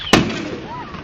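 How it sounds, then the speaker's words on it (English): A Fourth of July firework bursts with a loud sharp bang near the start, followed by a faint odd descending whoosh or whistle trailing off in the background. "Did you hear that awkward little noise when that firework went?"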